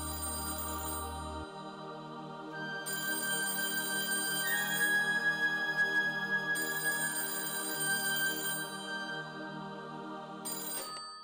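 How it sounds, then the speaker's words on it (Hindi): A mobile phone rings indoors with a looping electronic ringtone melody, repeating steadily for several seconds at moderate level with no talk over it. "फोन बज रहा है"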